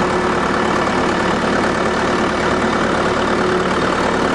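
A dump truck engine runs in third gear, a steady, loud, close drone that holds at one level throughout with no talking.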